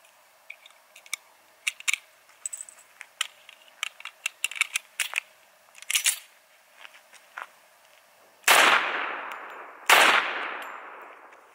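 A .45 pistol fires Winchester 230-grain full metal jacket rounds into a hay bale outdoors. Scattered light clicks and handling noises come first, then two loud, sharp shots about a second and a half apart, each with a short decaying echo.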